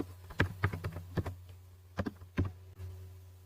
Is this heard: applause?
no